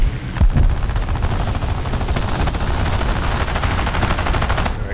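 Rapid machine gun fire from an I-15 biplane in the video game War Thunder rattles loudly and continuously in a dense, even stream of shots.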